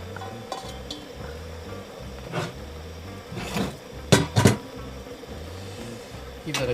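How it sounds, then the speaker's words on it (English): Spoon stirs chopped potato, carrot, celery and mushrooms into browned meat, onion and garlic in a pot at a camp in the Victorian High Country, giving a few soft scrapes and clinks amid low background rumble. "Give that a good stir"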